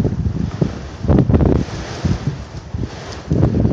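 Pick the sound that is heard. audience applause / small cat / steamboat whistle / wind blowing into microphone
wind blowing into microphone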